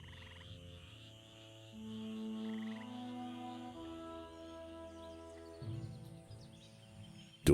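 A bullfrog croaks in the video game Empires of the Undergrowth, deep sustained croaks layered over a soft ambient musical drone, with faint chirping above, fairly quiet and even.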